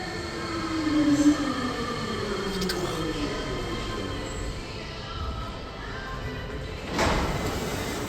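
A VAL 208 metro train arriving at a station, a steady loud rumble of rolling wheels with faint squeals and a sharp clunk near the end, close by, with a faint station voice underneath.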